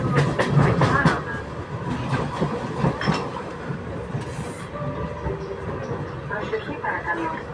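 Athens metro train between Petralona and the next stop on the line from Agios Antonios to Neo Faliro, a steady rumbling run with rhythmic clatter of wheels over rail joints, heard from inside the carriage.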